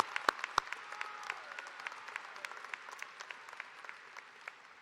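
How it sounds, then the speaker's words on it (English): Applause from a room full of people at a college commencement, a dense patter of clapping with a few sharp louder claps standing out, steady and moderately distant. "a round of applause"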